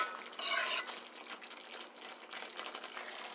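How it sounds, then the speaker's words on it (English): A spoon stirs Guyanese chicken curry in a pot, a soft scraping swirl with a brief louder burst near the start, then steady gentle stirring throughout. "You want to always give it a little stir so that way it doesn't get burned at the bottom."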